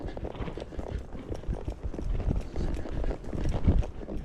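Hoofbeats of a walking horse mare gaiting on a loose rein, a steady rapid clip-clop rhythm close by throughout, with faint tack and riding noise underneath.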